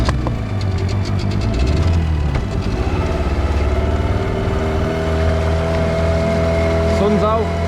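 A small 4-horsepower outboard motor drives a little boat across open sea, droning loudly and steadily from close by, its pitch shifting slightly as it runs, with a voice talking over the engine.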